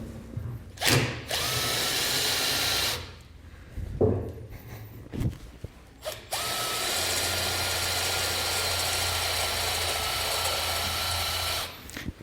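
A power drill whines at high speed in long sustained bursts, driving a self-tapping screw into a metal hinge, with short pauses and clicks between runs.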